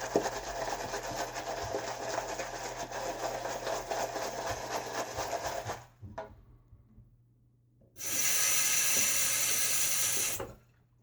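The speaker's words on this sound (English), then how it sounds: "The stiffness of this brush is really making my plastic bowl go bonkers here." A stiff shaving brush scrubs briskly against a plastic bowl while lathering shaving soap, a loud, rough swishing, pausing for about two seconds before resuming.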